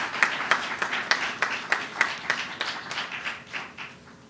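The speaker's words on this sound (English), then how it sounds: "Give him a round of applause, please." Applause breaks out for a debater at a high school debating competition final, a modest crowd clapping in a loose, rhythmic pattern that gradually fades, with no speech over it.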